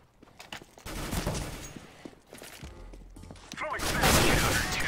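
Rapid bursts of P90 submachine gun fire in Counter-Strike on the Mirage map, dense and continuous over a busy mix of game noise, with voices talking faintly underneath.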